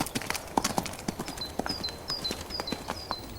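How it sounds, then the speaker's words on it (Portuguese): A horse's hooves clip-clop in a steady rhythm on hard ground, moderately close, with faint chirping birds in the background. "Nosso cérebro vê um cavalo vindo em nossa direção."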